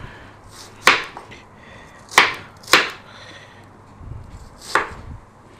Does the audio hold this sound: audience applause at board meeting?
no